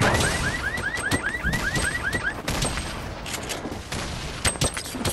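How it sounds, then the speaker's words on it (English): Gunfire and blasts from Fortnite combat, with a grenade explosion among dense shooting, repeated sharp bursts and an alarm-like chirping pattern early on, loud and busy throughout. "he freaking threw a grenade"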